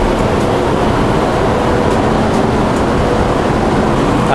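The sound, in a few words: Vibrant Express high-speed train ride, Hong Kong to Shenzhen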